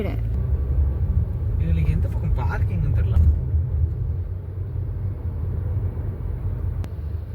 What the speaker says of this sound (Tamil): நைட்டு எவ்வளோ ஒரு டிராஃபிக்கு பகல் மாதிரி இருக்கு